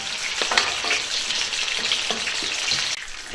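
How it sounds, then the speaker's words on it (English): A Parker Ranch beef hamburger patty sizzles loudly and continuously in a hot pan as it is flipped. There is a constant close frying hiss, with a few soft knocks from handling. "Just flip over the hamburger."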